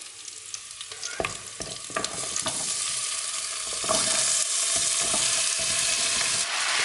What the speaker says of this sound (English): when that starts to sizzle and start make like a really nice garlic and onion smell